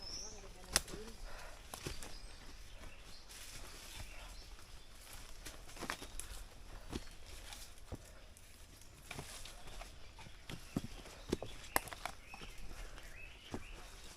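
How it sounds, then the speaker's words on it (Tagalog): Birds call faintly and intermittently along a mountain trail on Mt. Payaopao, Tablas Island, Romblon, among scattered rustling and footstep-like taps, with no talk. "Sarap sa tenga ng mga ano ng ibon ah."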